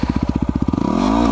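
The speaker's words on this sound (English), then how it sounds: "I'm just gonna drop the fucking clutch." A Yamaha WR250R dirt bike in snow: a close, loud, regular thumping idle pulse that breaks into a rising rev as the clutch is dropped and the engine pulls.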